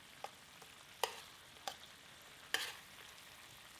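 New Orleans-style barbecue shrimp cook in a pan, giving off a faint, quiet sizzle broken by a few sharp scrapes and clinks of stirring at irregular intervals.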